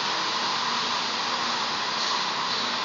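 Hot air welding on an LLDPE plastic tank gives a steady, loud rushing blow of heated air that runs unbroken throughout, with no voices.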